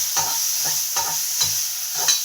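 Peppercorns and tomato fry while being stirred, with four or five regular, close scraping strokes over a constant hiss of frying.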